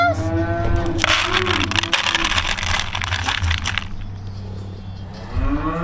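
Pigs at a farm at feeding time, loud and continuous, with grunting and squealing in the lower range and a burst of harsh squeals filling the middle of the stretch before settling back down.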